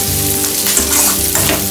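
Sliced onion and green chillies fry in hot oil in a pan for idli upma, a loud, close sizzle with bursts of crackling as the pieces are stirred.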